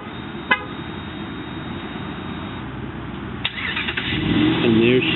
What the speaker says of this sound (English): We also have the remote start.